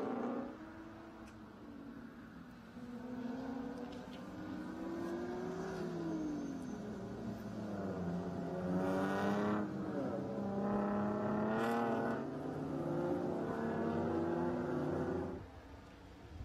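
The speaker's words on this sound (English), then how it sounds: "Johan Swartz coming down through turn number 19 as they enter that acceleration zone." Touring race cars in the 2018 Pirelli World Challenge at Circuit of the Americas in Texas accelerate out of a corner, engines rising and shifting in a loud, continuous whine that swells as they pass.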